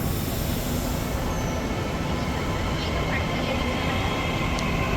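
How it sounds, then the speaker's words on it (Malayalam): A metro train speeds along, giving a steady, loud, broadband rumble and rush that stays constant from start to finish, heard from close by with no breaks. "മെട്രോ കുതിച്ചു പാഞ്ഞുകൊണ്ടിരിക്കുകയാണ്"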